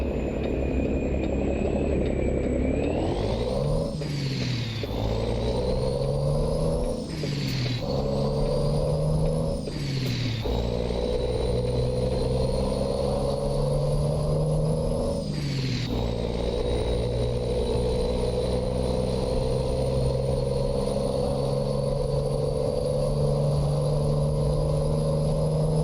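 A simulated truck engine, a Cummins M11 in American Truck Simulator, runs steadily, rising and falling through several revs and gear changes, with bursts of air-brake hiss between.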